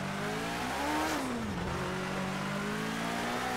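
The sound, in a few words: race car engine in racing video game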